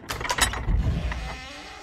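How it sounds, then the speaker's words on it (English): Heavy prison door creaking open with metallic scraping and a low thudding clunk, close and moderately loud, in a dramatic fantasy story setting. "Open the door, Bazim."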